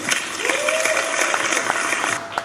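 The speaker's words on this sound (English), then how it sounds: "You guys, clap for Monty and Tyler." Audience at a live comedy show in a beer brewery taproom applauds steadily and loudly, with scattered cheers and voices mixed into the clapping for the whole stretch.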